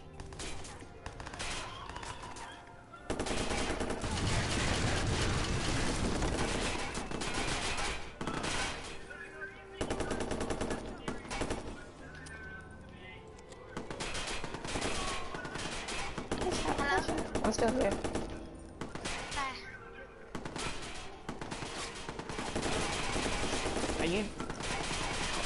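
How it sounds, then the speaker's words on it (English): Gunfire aimed at the player in the video game Watch Dogs, dense and loud for the whole stretch: rapid automatic bursts and repeated shots blur into a continuous barrage with only brief lulls, mixed with game sound. "Why are you shooting at me?"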